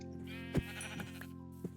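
A sheep in the video game Minecraft gives a wavering, quavering bleat, sounding close and fairly quiet, with a couple of soft thumps in the background and no talking.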